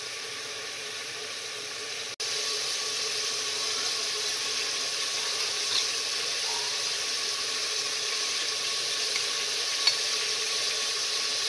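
Mutton frying with yogurt in oil in a handi gives a steady, close sizzle that keeps up with no letup. A sharp break comes near the start, then the frying runs on alone with faint stirring clicks.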